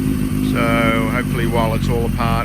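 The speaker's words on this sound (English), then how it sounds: "as you can see, it starts up quite easily. Seems to idle okay, considering that the compression is down." A Suzuki GS750 motorcycle engine with low compression idles as a steady low rumble, held under someone speaking close to the microphone.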